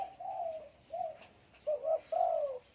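A female spotted dove coos several times, soft rounded medium-pitched calls in short phrases with pauses between, close and clear against a quiet background.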